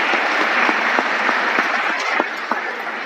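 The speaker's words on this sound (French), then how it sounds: "Mais on vous applaudit." A church congregation claps together during a Sunday service, a brief, fairly close burst of applause with individual claps standing out.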